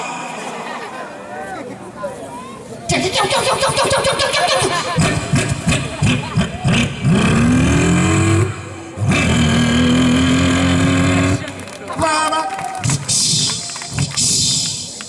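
A comedian's voice mimics a truck with a burst silencer, rough revving growls and sputtering bursts rising and falling for several seconds, loud and close, with crowd noise between.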